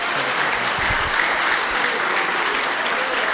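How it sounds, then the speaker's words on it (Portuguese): A church congregation clapping in praise, a loud, dense wash of many hands filling the room steadily throughout, with a few low thumps near the start. "As palmas louvem o Senhor."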